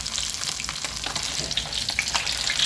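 Fish frying in hot oil without any batter, one piece at a time, giving a steady close crackling sizzle with dense bubbling that runs throughout and has no talk over it.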